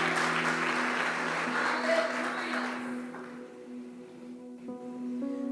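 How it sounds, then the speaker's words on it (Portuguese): A church congregation claps for the Lord in a burst of loud applause that fades after a few seconds, leaving a sustained organ or keyboard tone with faint voices beneath. "Pode aplaudir ao Senhor."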